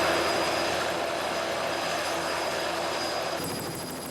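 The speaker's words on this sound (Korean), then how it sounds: "바로 헬기 투어를 하는 것이다" A tour helicopter flies over Iguazu Falls amid tropical rainforest, its rotor and engine producing a steady, droning roar with rapid pulsing beats, fairly close and continuous, easing slightly near the end.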